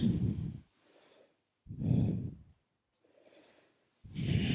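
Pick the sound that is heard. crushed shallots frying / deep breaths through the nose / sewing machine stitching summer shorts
deep breaths through the nose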